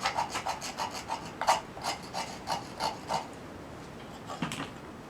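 Blade scraping a piece of fatwood from a dead branch: a quick series of a dozen rhythmic, close raspy strokes, then a pause and two more scrapes, with no talking.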